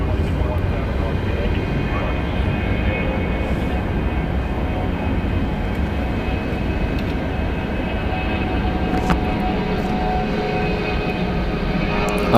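A 17-year-old Delta Airlines Boeing 717 arriving at Atlanta from Asheville rumbles as a steady, moderate engine drone that sits at a middle distance and stays even throughout.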